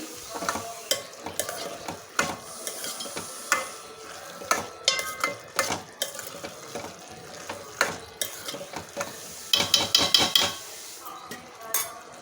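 Ridge gourd and chana dal curry being mixed with a cumin-coriander chilli spice powder in a pan, with repeated scraping and clattering strokes of a spoon against metal over a soft sizzle, loud and close, no talking.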